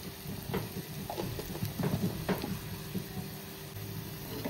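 Aagri masala cooking in a hot pan for prawn rassa, a steady soft sizzle and crackle with scattered sharper pops, close and moderately quiet, no talking.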